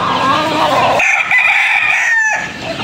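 A brood stag rooster crows loudly and close, one strained, wavering call lasting a couple of seconds, with a rougher, noisier stretch at the start of the crow.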